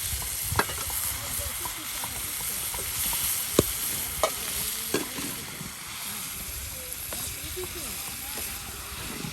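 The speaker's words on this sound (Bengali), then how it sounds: "এই যে এখন সিদ্ধ করে নেওয়া পেঁপেগুলো দিয়ে দেওয়া হচ্ছে" Boiled papaya pieces get stirred and fried in a hot spiced pan, giving a steady sizzle punctuated by sharp spatula knocks and scrapes against the metal.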